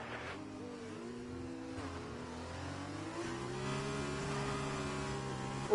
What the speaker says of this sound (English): Oh, he revs the crap out of the car there.